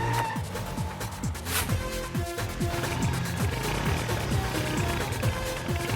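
Roaring engine with repeated rising whines and a harsh tire screech, loud and continuous like a vehicle revving and skidding nearby.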